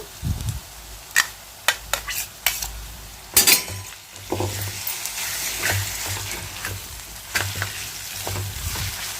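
Green chili, ginger, garlic and cumin paste fries with onions in a pan, giving a steady close sizzle broken by sharp stirring scrapes and a few utensil clinks against the pan.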